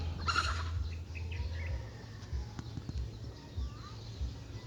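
A chicken calls loudly near the start, a harsh burst, then fades to scattered outdoor noise with low rumble and faint distant calls.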